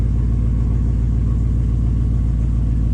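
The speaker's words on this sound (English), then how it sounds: "Even when they're stock, just got SLP exhaust on it" Deep, steady idling rumble of a Chevrolet F-body car with an SLP exhaust, a throaty, pulsing exhaust note, loud and close, no voices.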